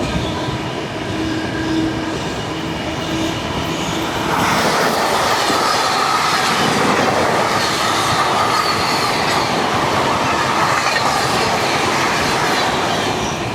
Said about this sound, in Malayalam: KSR ബംഗളൂരു നാന്ദേഡ് എക്സ്പ്രസ് ആണ്.